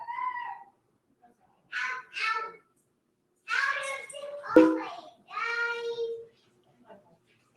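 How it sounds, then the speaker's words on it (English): Children scream and shout in a hallway in short, high-pitched bursts, close by and fairly loud, with pauses of quiet between them. "Sorry about the kids screaming in the hall."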